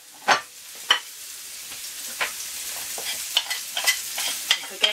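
Onions and bacon frying together in a pan hiss steadily while a spatula knocks and scrapes at irregular intervals, near and clear, with no voices over the sizzle.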